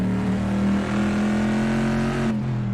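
A Bizzarini race car in a racing video game revs hard toward its 6,500 rpm red line at a virtual Goodwood circuit, a loud, steady, buzzing engine note holding high with only slight shifts in pitch.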